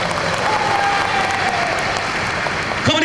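Dense applause from a church congregation after a preacher's sermon, sustained and fairly loud, with a brief tonal chirp near the end.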